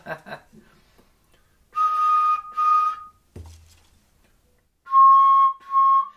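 Two bright, sustained high-pitched tones ring out, then a short low thump, followed by two more clear high tones, like blowing across a glass bottle.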